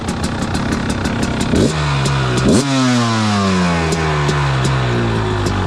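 A small dirt bike engine fitted with a Lectron Billetron 38 carburetor idles loudly up close, blipped twice with quick throttle revs that rise and fall before settling back to a steady idle.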